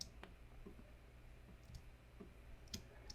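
Computer mouse clicking during a digital vector illustration session: a few soft, faint clicks spaced irregularly over low background hiss, no talk.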